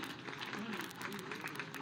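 Faint, distant applause at a flag-off ceremony for electric vehicles in Ayodhya pattering steadily beneath a hum of crowd noise, without a clear start or finish.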